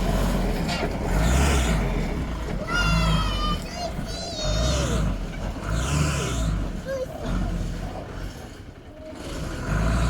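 A converted camper van truck squeezing slowly through a tight spot, its engine rumbling and revving under a family's voices, including children talking, near and fairly loud.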